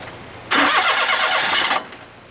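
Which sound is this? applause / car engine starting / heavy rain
car engine starting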